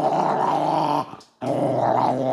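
A dog named Nido growls in a deep, continuous rumble close by, breaking off briefly for a short gap before the loud growl resumes just as steadily.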